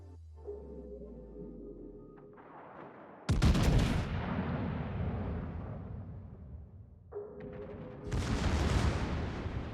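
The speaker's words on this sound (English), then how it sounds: "George is going to find himself melting under my secondary barrage if he doesn't pick up the pace." Secondary gun barrage of the Tier IX German battleship Friedrich der Große in World of Warships, two loud booming volleys several seconds apart with long rumbling decay between them, no talk.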